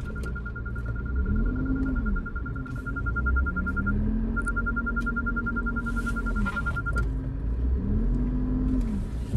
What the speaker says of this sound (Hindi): हमने एक्सीलेटर दिया